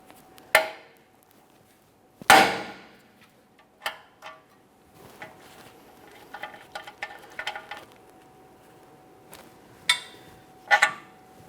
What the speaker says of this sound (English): we're going to lightly tap on the steering knuckle with a hammer, causing vibration